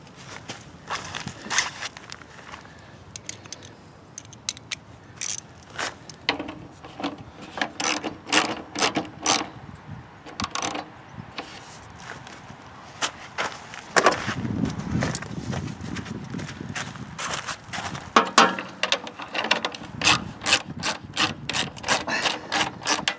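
Ratchet wrench clicking in quick runs while tightening bolts on a snow blower, with short bursts of crisp pawl clicks separated by pauses, close and clear, alongside occasional shuffling and knocks from handling the machine.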